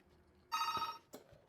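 A phone rings with a short electronic tone burst, fairly faint and brief, followed by a softer clicking sound.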